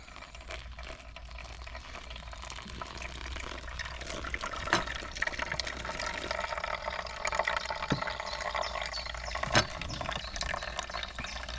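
Water pours steadily through a coffee drip filter at a wild campsite, a continuous soft splashing trickle with a few faint clinks, heard alone without talk.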